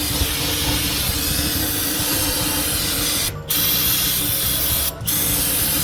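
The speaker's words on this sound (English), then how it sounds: "use some brake parts cleaner to just spray down all the excess oil" Brake parts cleaner hisses from an aerosol can onto the oily gears of a heavy-duty differential. The spray is continuous and close, and it stops twice for a moment.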